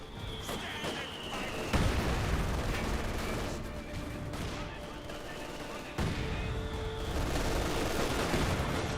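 Gunfire and explosions from a Company of Heroes 2 battle come as dense bursts of rattling shots and heavy booms, mixed with low game sound and some faint voices.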